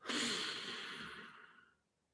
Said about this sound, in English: Now exhale, but exhale very slowly, lengthening the exhale.